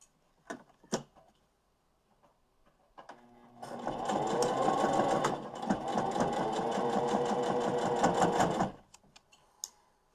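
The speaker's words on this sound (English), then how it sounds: "I'm going to do another 1/4 inch and sew down the side." A sewing machine stitches the side seam of a fabric mask in one continuous run of about five seconds, a close, rapid mechanical chatter between a few quiet clicks and handling sounds.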